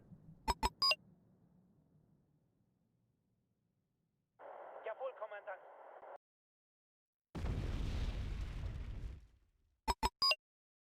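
In Wargame: Red Dragon, bombing runs land as one heavy, rumbling blast, set among short bursts of radio-like chirps and beeps, with stretches of near silence between.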